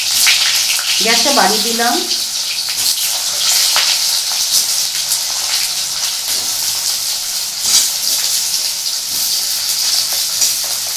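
Potatoes frying in hot oil in a pan for a Bengali fish curry with aloo and bori, a steady loud sizzle and hiss running throughout while someone speaks briefly near the start.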